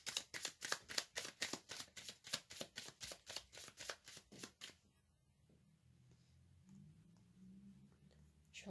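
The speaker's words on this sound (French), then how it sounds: "je vais tirer des cartes d'oracle" Oracle cards are shuffled close by in a quick, regular run of crisp riffling flicks that lasts about five seconds, followed by quiet handling rustle.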